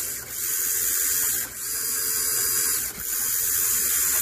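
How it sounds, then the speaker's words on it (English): Two brass gears rub inside the geartrain of a tiny brushless motor on a small 3S-powered SCX24 RC crawler. They make a steady, high, buzzing whine that dips briefly about every one and a half seconds. "it is a little bit noisy with two brass gears in there rubbing together"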